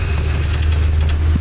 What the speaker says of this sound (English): we're charging through the backwaters at the moment on a bus